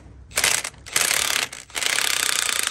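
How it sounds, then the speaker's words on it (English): A Milwaukee impact wrench fitted with impact sockets hammers at bolts on a 1934 Oldsmobile hearse in three close, loud rattling bursts, each lasting about half a second to a second with brief pauses between. "We did buy ourselves a set of them fancy Milwaukee impact sockets, so we'll see how they work today"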